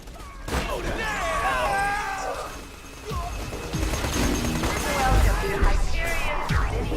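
Weapon fire in the video game Borderlands 2, played as the assassin Zer0, comes in a few sharp bursts mixed with clanking game effects and a voice in a busy soundscape.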